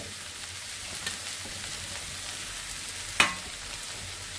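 Vegetable bhaji with coriander leaves sizzling in oil in a pan, a steady soft frying hiss with one sharp crackle partway through, fairly faint and without talk.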